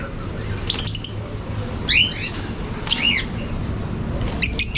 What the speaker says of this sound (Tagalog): Dito naman mga African lovebirds.